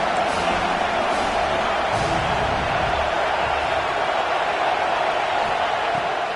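Football stadium crowd roaring behind the defense on a big third down, a dense, steady wash of cheering and noise that stays loud and unbroken throughout.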